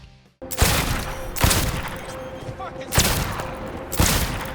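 Revolver fire in Cyberpunk 2077: four loud, sharp shots spaced about a second apart, each trailing into a brief reverberant tail over a low game-ambience bed.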